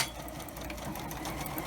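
Sewing machine chain-stitching fabric face masks, a steady close whirring hum with a fast needle chatter, running continuously at even speed with no voices.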